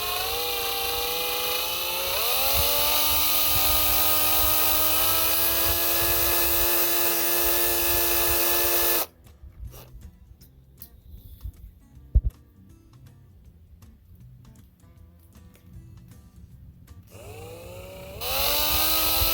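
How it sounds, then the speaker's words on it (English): A power drill bores through material during a wheel swap, whining loud and steady with a few shifts in pitch, then dropping away to quiet before starting up again near the end. "One thing that's hard to do is trying to keep your drill bit straight."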